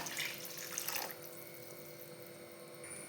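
Water pours into a cooking pot for a rustic rasam made without rasam powder, splashing loudly for about a second before settling into a quieter, steady trickle.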